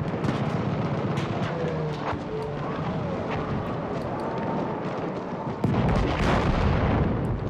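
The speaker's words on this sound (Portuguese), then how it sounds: "Explodiu aqui, velho." Battlefield 1 battle noise with a heavy explosion near the bunker, a deep boom rising from continuous distant artillery and gunfire rumble, loud and sustained, with someone speaking under it.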